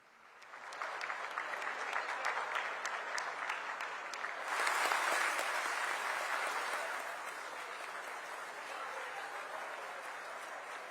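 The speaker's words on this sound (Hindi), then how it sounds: "और तालियां वाकई में बनती हैं भारत के वैज्ञानिकों के लिए, इसरो के लिए" Sustained applause from a large crowd celebrating India's scientists and ISRO after the Chandrayaan-3 soft landing, a dense continuous clapping wash that swells midway and then eases slightly, heard at a moderate distance.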